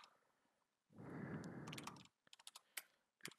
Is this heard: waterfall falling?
no